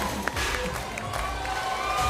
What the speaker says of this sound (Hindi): जोरदार तालियां अक्षय के लिए